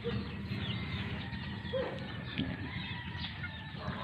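A Kelso bloodline gamefowl rooster on a farm gives soft, scattered clucks amid a low, steady outdoor background, faint and fairly distant.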